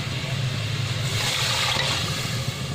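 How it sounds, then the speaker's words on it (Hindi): Water pours steadily into a pot of browned chicken and spices for yakhni, a close, continuous rushing splash lasting a few seconds with no talking. "अभी हम इसमें और पानी ऐड कर रहे हैं।"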